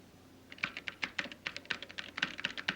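Keys strike in quick, uneven bursts on a typewriter, each crisp clack standing out sharply against a quiet room, with no talking.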